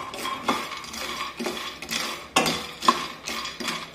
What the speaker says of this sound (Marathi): गॅसची फ्लेम ही मध्यमच ठेवून हे सर्व शेंगदाणे भाजून घेऊया।